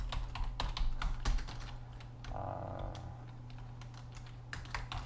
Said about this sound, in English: Okay, so I just typed text.